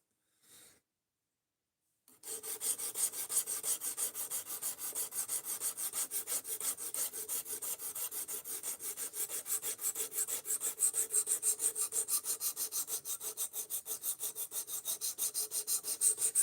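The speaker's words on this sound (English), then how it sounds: "Double, we're sharpening the knife right now, which is going to be a slow grind." A knife is sharpened on a grinding stone in a slow steady grind, a rough rhythmic scraping that starts after a brief tap and runs on evenly and close, with no talk.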